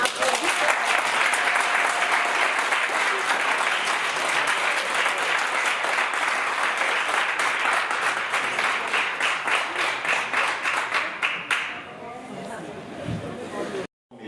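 Dense, sustained applause from a large audience at a public ceremony in Côte d'Ivoire, steady and loud for about eleven seconds before abruptly thinning into scattered claps and quiet.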